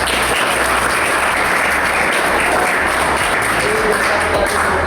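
Steady, dense applause from a group fills the whole stretch, loud and even without pauses.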